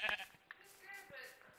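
A Minecraft sheep gives a short bleat in the game, faint and brief, while a player's voice talks over it.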